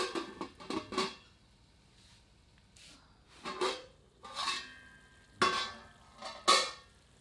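Ladle scraping and stirring through Lahori chicken curry in a pot, several separate bursts of scraping and clinking close up, with a soft simmer between them.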